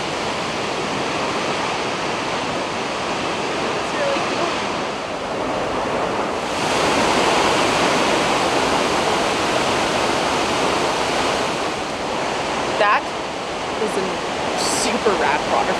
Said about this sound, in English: That's an impressive waterfall.